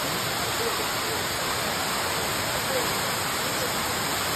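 Courtallam waterfall in the evening, a dense unbroken roar of falling water that stays loud and even throughout.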